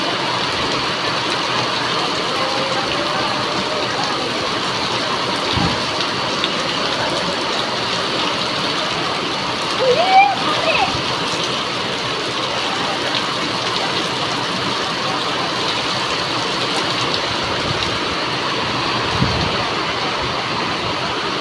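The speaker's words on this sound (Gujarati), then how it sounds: "તો મિત્રો જોઈ શકો છો ફૂલ તેજીથી વરસાદ આગળ વધી રહ્યો છે" Heavy rain falls in Gujarat as a dense, continuous broadband hiss and roar, loud and steady throughout, with a few faint thuds mixed in.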